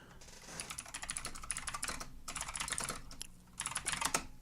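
Fast typing on a computer keyboard, dense rapid clacking in bursts with brief pauses between runs, close and clear, no one speaking.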